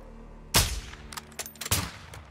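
Sniper rifle fire in Call of Duty Modern Warfare 2: two sharp, loud, booming shots with echoing tails and a few lighter cracks in between, close and punchy.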